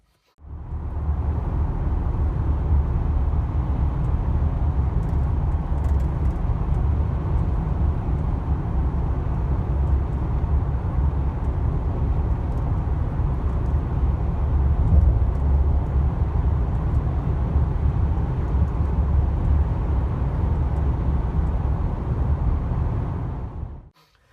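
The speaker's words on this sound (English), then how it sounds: "see if y'all can hear the amount of noise the tires make inside the cabin" Steady low road roar from General Grabber AT2 all-terrain tires heard inside a moving truck cabin, a continuous broadband rumble that holds even throughout, with no talking.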